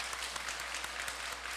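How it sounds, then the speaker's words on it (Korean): Church congregation applauding after a Sunday service sermon, a steady, even wash of many hands clapping that fills the hall from start to finish without any speech over it. "다시 한번 감사의 박수 하겠습니다."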